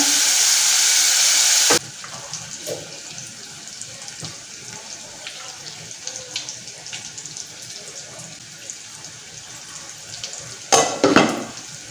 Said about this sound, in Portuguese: Meu bacon tá fritinho.